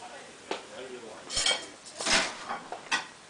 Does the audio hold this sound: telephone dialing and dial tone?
no